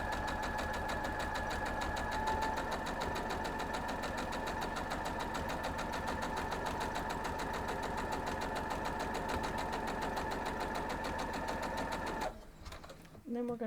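A sewing machine stitches quilt block pieces for a Buckeye Beauty variation quilt block, running in a steady, fast, continuous mechanical rhythm close up for about twelve seconds before stopping, with faint handling noise at the end.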